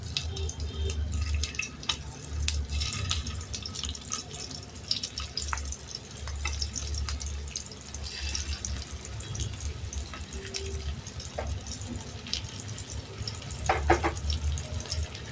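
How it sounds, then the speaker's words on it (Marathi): Stuffed bitter gourds sizzle and crackle as they are laid into a hot oiled pan, a steady close frying hiss with scattered pops and scraping, no voices. "आता आपण भरलेले कारले याच्यात ठेवून देऊ."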